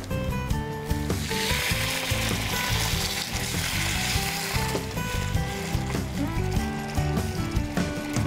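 A frying pan of grated coconut and salt sizzles loudly and steadily after a splash of water goes in, the hiss and crackle running continuously under background music in a cooking-show kitchen.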